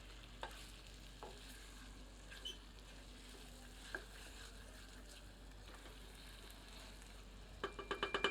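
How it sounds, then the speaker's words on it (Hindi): Mutton frying with spices in a pan over medium heat, a low steady sizzle with occasional scrapes of a stirring spoon, faint and continuous, with a few sharper clatters near the end. "इसे अन्य सामग्री में अच्छे से मिलाकर 3 से 4 मिनट मध्यम आंच पर भूनते हैं।"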